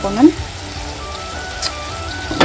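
Chicken pieces frying in a pan with onion and chilli make a soft, close sizzle, broken by a few brief clinks and stirring scrapes.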